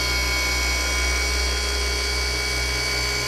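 A polishing machine is pressed hard against the paint of a Porsche GT4 RS in a garage. It gives off a continuous high, tonal whir with a droning low hum that stays steady and close, with no talking.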